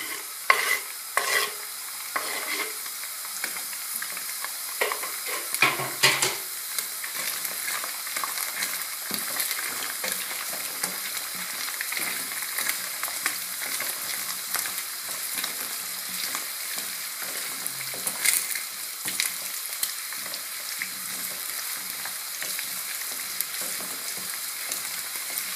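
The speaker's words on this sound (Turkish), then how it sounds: "Şimdi bir adet soğanımı ve 3 diş sarımsağımı ekliyorum" One onion and three cloves of garlic fry in a pan with a steady, close sizzle, punctuated by occasional scraping and stirring, and no voices.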